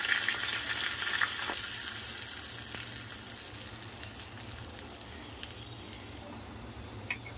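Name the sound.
tadka of curry leaves and red chili powder sizzling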